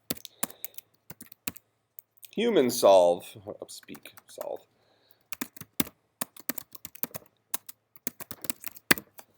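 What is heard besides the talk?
typing on a computer keyboard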